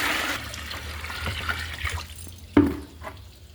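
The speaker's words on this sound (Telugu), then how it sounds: "వాటర్ వేస్తున్నాం దీనికి." Water splashes and trickles into a tub at close range, a soft continuous pour with one sharper splash partway through; no talking.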